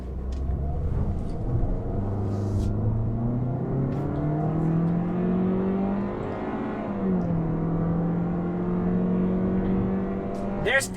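A 2022 Toyota Corolla Cross with a 2-liter four-cylinder and continuously variable automatic transmission accelerates, its engine drone rising steadily in pitch, easing briefly, then climbing again, heard from inside the cabin at a constant, moderate level.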